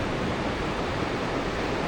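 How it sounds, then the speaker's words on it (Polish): Steady broadband wash of surf rolling onto a Moroccan beach beside a fishing village, with wind rushing across the microphone, continuous and fairly loud with no talk. "znajdujemy się na Imi Qadar Beach"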